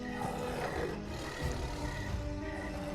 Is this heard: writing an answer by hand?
no